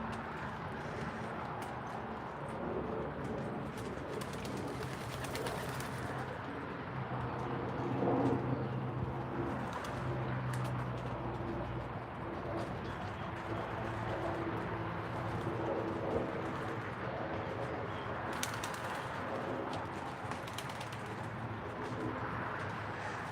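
Soft, low coos from young pigeons in a loft repeat steadily beneath a constant murmur of fluttering and shuffling, with faint voices in the background.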